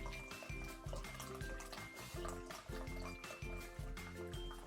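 Homemade moonshine is poured into a glass carafe over strawberries, a steady liquid gurgle and trickle that runs under a loud, rhythmic music track with a repeating beat.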